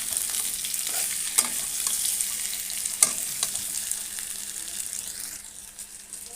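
Vegetables sizzle and fry in a pan for a fish curry, a steady high crackle with several sharp clicks and scrapes of stirring, fairly close and alone with no voices.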